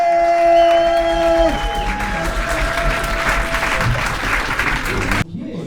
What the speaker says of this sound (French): Je vous demande un tonnerre d'applaudissements pour John Declin